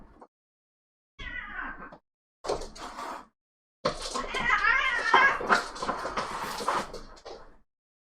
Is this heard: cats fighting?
yes